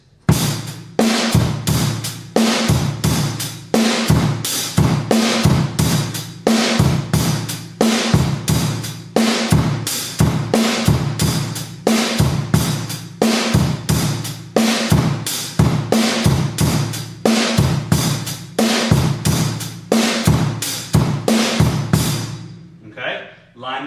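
A drum kit works through the second exercise line from a lesson book, with a steady repeating pattern of kick, snare and cymbal hits played loud and close for over twenty seconds, no voices.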